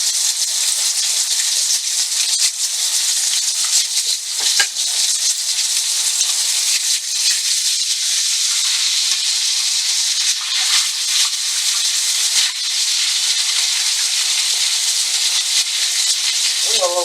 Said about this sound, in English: These little things fried up pretty quick.